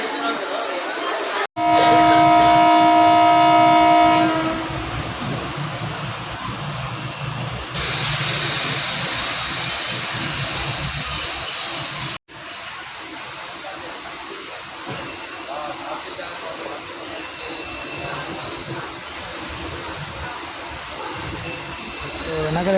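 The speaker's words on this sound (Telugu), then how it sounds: "సో హార్న్ అయితే ఇచ్చేసారు" A Ballari–Hosapete DEMU passenger train sounds a long, loud, two-toned horn blast, then a steady hiss and engine rumble as it pulls away, heard from a seat by the window with talk over it.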